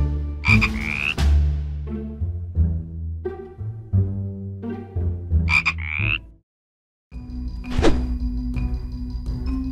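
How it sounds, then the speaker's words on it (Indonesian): Frog croaking loudly and close, a series of deep resonant croaks with a few sharper chirping calls, a brief silent gap, then a final croak. "Itu emang ada kodok."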